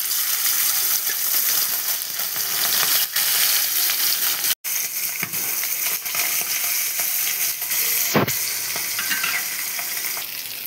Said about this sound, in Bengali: তেল এবার গরম হয়ে গেছে, আমি মাছগুলো এক এক করে দিয়ে দেব।